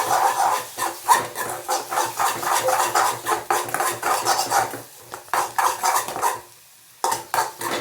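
Rapid metal utensil scraping and clinking against a pan while masala bhurji is stirred with turmeric and chili powder, a busy continuous rhythm of close, loud strokes with a brief pause near the end.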